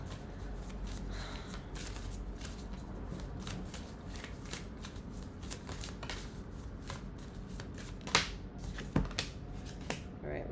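Oracle cards are shuffled by hand at close range in a quiet room, a run of soft riffling and sliding with rapid papery flicks, ending in a few sharper snaps.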